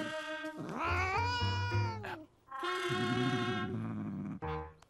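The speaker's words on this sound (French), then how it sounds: "Un gros chat à 10 heures." A cat meows twice in long, drawn-out, wavering cries, fairly close, followed by a shorter third mew.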